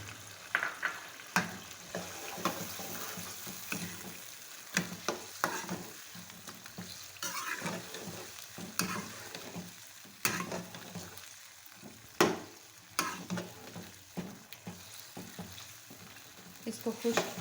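Yogurt stirred and frying with melted tomatoes and ghee in a pan for chicken curry, giving a steady close sizzle broken by repeated scraping stirs, with no talking.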